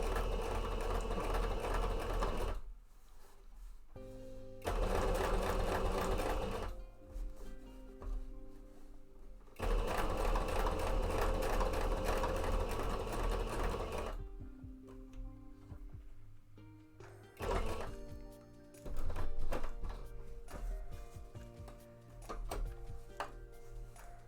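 A sewing machine stitches fabric for a cape mock-up in repeated bursts of steady, fast mechanical whirring, broken by short pauses and softer handling sounds between runs.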